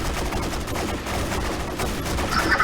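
Dense volleys of gunfire in a Half-Life 2 roleplay game during a demolition map event, with many rapid overlapping shots in a loud, continuous fusillade and no clear voices.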